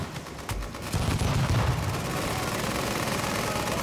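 Dense bursts of automatic gunfire rattle out in Tom Clancy's The Division, Falcon Lost DLC, a thudding shot followed by sustained rapid fire that stays loud and continuous to the end.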